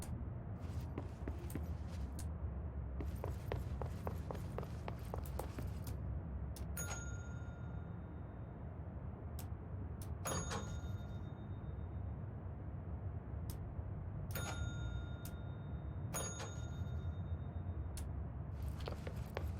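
Metallic bell struck repeatedly in the video game Control, several sharp ringing dings that decay with a lingering tone, spread out over a low ambient hum with scattered clicks and taps between strikes.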